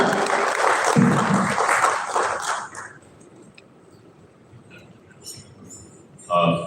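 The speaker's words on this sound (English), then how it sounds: "Please welcome with a round of applause our first keynote speaker" A conference audience applauds to welcome a keynote speaker at a Philippines–China relations forum: a dense burst of clapping that fades within a few seconds into near quiet, followed by a brief bump of sound.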